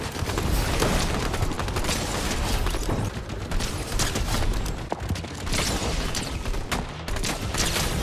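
Dense, continuous rapid automatic gunfire and rocket explosions from a game, loud and unbroken throughout.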